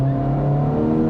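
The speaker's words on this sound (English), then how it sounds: "But I can hear the exhaust more in this, and the auto rev matching," A 2024 Acura Integra Type S with auto rev-matching revs hard, its exhaust a loud, close, steady engine drone with no talking over it.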